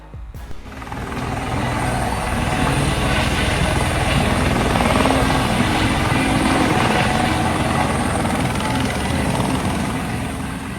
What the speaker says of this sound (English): The helicopter abruptly lost its balance and tilted, causing the rotors to strike the ground despite the pilot's efforts.